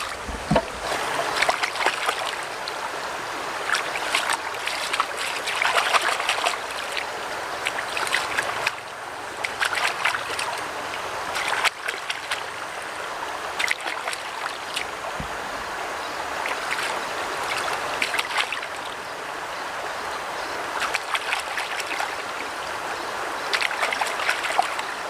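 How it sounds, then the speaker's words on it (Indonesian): A cold, clean river runs right beside someone washing shrimp outdoors, giving a steady close rush and trickle of flowing water with faint splashes throughout and no voices. "Kita cuci, di depan kita ada sungai. Dingin banget airnya, bersih."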